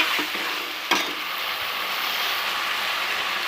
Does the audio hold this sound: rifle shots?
no